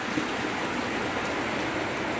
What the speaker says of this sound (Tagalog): sobrang lakas po ng ulan